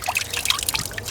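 Water trickles and splashes on a warm day in Vienna, a close, lively patter of small droplets and gurgles with no talking.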